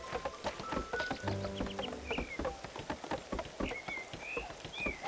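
Rain falling in the farming video game Moonlight Peaks, a steady soft patter mixed with game chimes and bird-like calls, layered over tonal music throughout.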